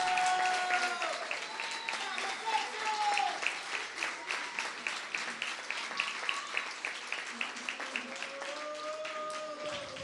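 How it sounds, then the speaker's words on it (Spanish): Audience applause at the inauguration of a new cinema hall in Buenos Aires, a steady wash of many hands clapping for about ten seconds, moderately loud with slight swells. "señora Lucrecia Cardoso, fuerte el aplauso"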